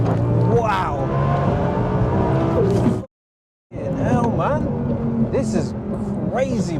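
A 1270 hp Audi TT revving hard and accelerating, loud and close, with rapid climbing pitch sweeps and sharp rev bursts, broken by a brief silent gap before the engine screams again.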